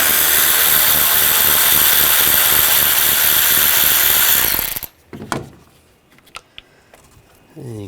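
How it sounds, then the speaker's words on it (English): A ratchet with a 10mm socket backs out a bolt on a Buick Encore during cooling fan replacement, a loud, steady mechanical whir for about five seconds that cuts off, followed by a few faint clicks. "Using a 10mm socket, we're going to take this bolt out."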